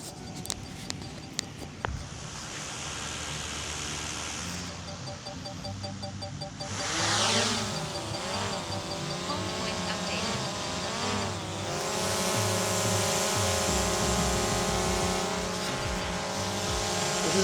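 A DJI Mavic Air 2 drone's motors spin up from silence into a loud, high whine whose pitch wobbles and then holds steady and close, with brief clicks beforehand and no talk.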